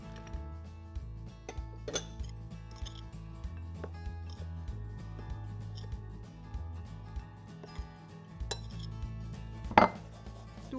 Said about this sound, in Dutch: Spatel het bloem door het beslag.